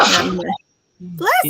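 A person gives one loud, sharp sneeze in a room during a casual chat, followed by a short silence and then talking.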